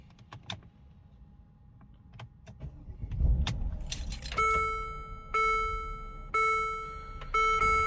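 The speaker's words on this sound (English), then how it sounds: "I turn on my car." A car is started with keys jangling faintly at first, then a loud electronic warning chime repeats in evenly spaced bursts from the dashboard, heard up close inside the cabin with no talking.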